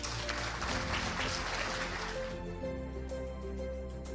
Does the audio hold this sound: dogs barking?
no